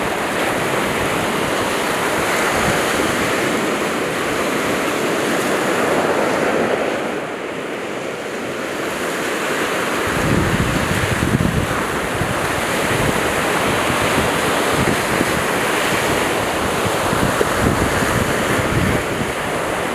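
East Sea surf rolls and breaks continuously on fine-sand Hwajinpo Beach in Goseong, Gangwon Province, with heavy wind noise buffeting the microphone throughout, and no voices.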